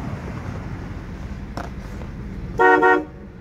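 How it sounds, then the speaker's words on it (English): Horn of a 1992 Cadillac Brougham with an old-fashioned tone, one loud, steady honk of about half a second that rises over quiet background hiss and faint car noise. "Got that old-fashioned horn"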